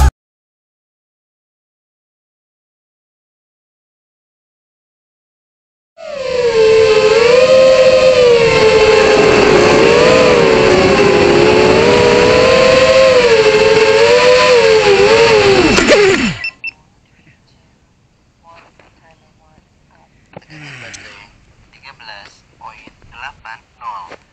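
A 5-inch FPV racing drone flies over a teak plantation, its steady high whine loud and close for about ten seconds before cutting off abruptly, followed by faint scattered rustles and movement.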